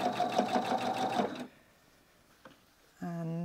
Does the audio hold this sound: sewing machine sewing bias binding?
yes